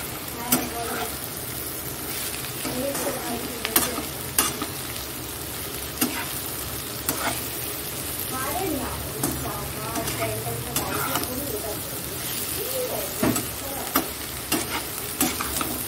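Onion frying in a pan, stirred throughout, makes a continuous close sizzle broken by repeated scraping and clinking of the spatula against the pan, with no talk.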